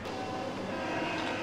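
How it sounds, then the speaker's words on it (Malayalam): A Paris metro train pulls in with a steady, loud rumble of wheels on rails that fills the whole short stretch without any voices. "മെട്രോ എത്തി."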